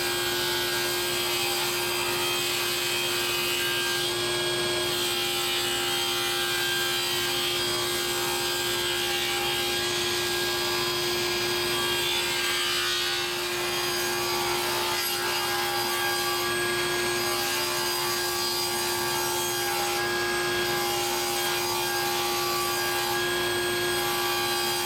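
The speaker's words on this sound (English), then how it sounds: "we're just going to do that over here at the table saw" Table saw ripping a 2x4 into 5/8 inch square strips for a garden obelisk, a steady loud whine with continuous wood-cutting rasp running throughout, no talking.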